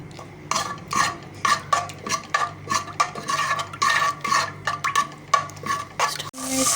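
Ginger garlic paste fries in oil in a pot for degi-style chicken korma, with a spoon scraping and clinking against the pot in a steady rhythm of repeated stirring strokes over a low sizzle.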